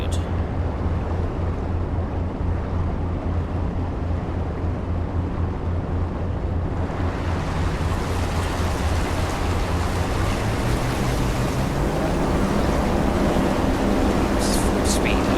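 A ship at full speed in Seafarer: Ship Sim churns water at the stern, a continuous rushing wash of waves that swells louder partway through, with someone talking over it.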